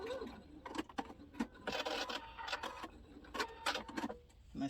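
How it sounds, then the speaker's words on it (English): A sewing machine makes quick stitches on a fabric memory bear, a series of short, close, rattling bursts with brief pauses between them. "So let's just go make a quick stitch here."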